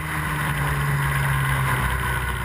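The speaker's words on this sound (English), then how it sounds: "going to be a near-on photo finish when they cross the line, but Rashford just about keeping ahead." Historic Formula Ford single-seater racing cars at Brands Hatch cross the finish line in a close photo finish, heard as a steady, loud engine drone with a low hum and wind buffeting, no distinct passes standing out.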